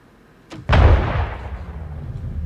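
A sharp weapon shot in Star Citizen Arena Commander cracks out, followed at once by a heavier booming blast whose low rumble decays slowly over a couple of seconds after a quiet start.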